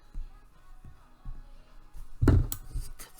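Scissors snip through a loose fabric thread, a brief close crunch of blades after a few soft handling taps.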